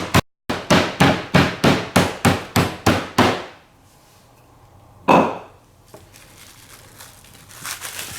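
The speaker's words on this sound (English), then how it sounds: "now that we flattened out and tenderized our meat" Meat mallet pounding beef under plastic wrap, about ten rapid, loud, evenly spaced thuds up close, followed by quiet, one more single blow and faint crinkling of the wrap.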